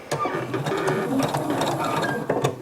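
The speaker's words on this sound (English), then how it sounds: "And then as you get on top of it, pull the other end out and finish stitching." A sewing machine stitches fabric for a napkin basket, a steady, close mechanical whir of rapid needle strokes running throughout.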